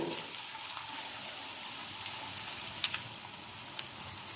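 Chopped onion frying in hot oil for an okra (bhindi) stir-fry, a steady close sizzle with scattered faint pops and crackles.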